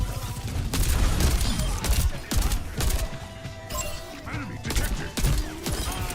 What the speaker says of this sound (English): It's a big nade.